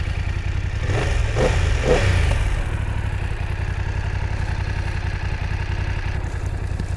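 A BMW F900R motorcycle gives three quick, loud throttle blips through its exhaust, then settles back to a steady, close idle with no voices.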